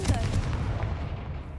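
A Confringo spell blast in Hogwarts Legacy, cast at a damaged bridge: a loud, booming explosion with a deep rumbling tail that fades over about a second.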